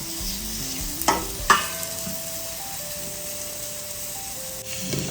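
Tomatoes go into a pan of sautéed green chillies for a vegetable white kurma, with a steady frying sizzle and a couple of sharp stirring clatters early on, while faint background tones drift underneath.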